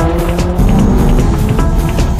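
A Honda S2000 race car drives into a hairpin on a mountain touge road, its engine loud and near, the pitch stepping and shifting as it brakes and works through the bend, with no talk over it.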